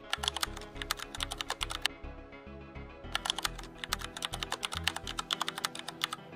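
Rapid, close-up clicking of keys on a computer keyboard in quick bursts, with a brief pause partway through, alongside a soft background music bed.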